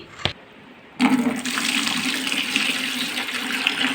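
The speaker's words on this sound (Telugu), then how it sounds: "ఇది ఫస్ట్ టైం నీళ్ళు కడుగుతున్నాను" Tap water runs steadily into a sink or vessel while soaked ingredients are washed, a continuous close splashing gush that starts after a brief clatter and carries on without talk.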